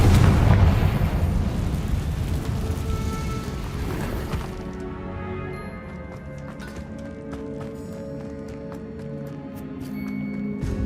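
A Confringo blasting spell in Hogwarts Legacy lets off a loud, booming explosion at the start, then the rumble decays over several seconds into a quieter ringing tail with scattered small pops and debris clicks.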